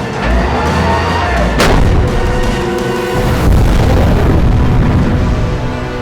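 Naval fleet artillery fire in a monster movie battle scene, loud booming blasts and rumbling concussions layered with dense orchestral score, dominating without dialogue.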